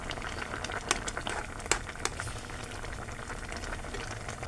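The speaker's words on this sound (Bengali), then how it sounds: "ঝোল ভালো করে ফুটছে" Prawn curry gravy for chingri kalia boils steadily in a pan, a close, dense bubbling and popping with a few sharper spits, continuous and unbroken, and no voices.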